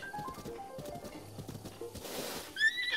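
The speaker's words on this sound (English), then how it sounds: "Horsey." Horse neighing and clip-clopping hooves in the video game The Legend of Zelda: Breath of the Wild, steady hoofbeats with game music, ending in a loud high whinny near the close.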